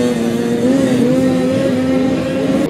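An 800 Turbo snowmobile engine at a drag racing event holds a loud, steady buzzing drone with a slight pitch wobble, close and unbroken throughout the short stretch.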